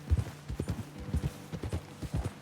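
Horse hooves clip-clop on a road in the Red Dead Redemption 2 video game, a steady, soft, close walking rhythm of light thuds with no talking.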